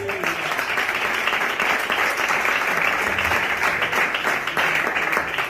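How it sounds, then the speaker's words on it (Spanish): A church congregation breaks into loud, dense applause that fills the room and carries on evenly throughout, with a faint voice briefly audible at the very start. "Dale un aplauso al Señor"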